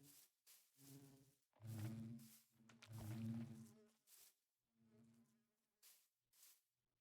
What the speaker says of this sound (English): Go to sleep, bees. I'm really tired of hearing you coming in and out.